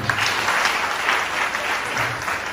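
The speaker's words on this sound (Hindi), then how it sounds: "जोर से ताली हो जाए" Loud, dense applause from an audience at a motivational talk on focus, steady and continuous throughout with no speech over it.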